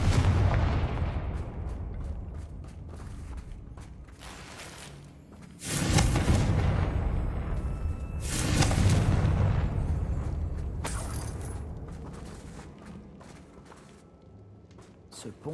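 A Confringo spell explosion destroying a bridge in the video game Hogwarts Legacy, heavy booming blasts with long rumbling tails, a first big burst then a second swell, fading to debris and quieter rumble, with talking over it.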